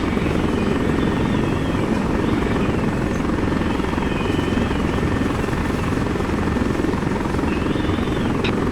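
A military helicopter in the video game Arma 3 flies with a loud, continuous rotor thump and engine drone that holds steady throughout.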